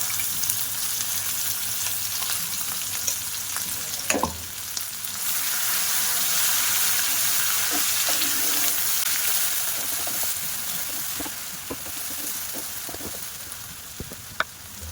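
Spice paste and fried onions sizzle in a pan for a chicken-in-milk dish, a steady close frying hiss broken by scattered clicks and stirring scrapes, with no talk.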